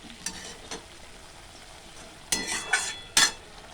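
Soaked soybeans stirred into a cooked-down sweetened spice paste in a pan, with a soft steady sizzle broken by a few sharp scraping stir strokes and utensil clinks, close and moderately loud with no voices.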